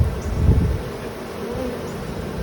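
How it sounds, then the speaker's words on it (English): Honey bees, including large drones, buzzing around an open hive during a September inspection, a steady close droning hum with a louder pass near the start. "there's some drones walking around"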